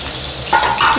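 Food splutters and sizzles in hot oil while methi chicken cooks, a close, loud crackle with a couple of sharper pops near the end.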